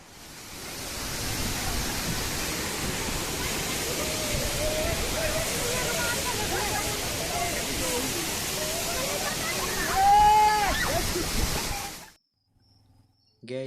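Badiyargarh waterfall in Uttarakhand rushing as a steady, broad roar close by, with faint voices and a short whistle-like call over it before the sound cuts out near the end.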